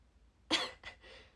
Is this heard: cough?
yes